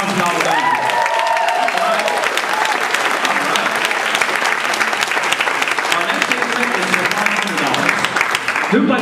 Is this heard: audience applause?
yes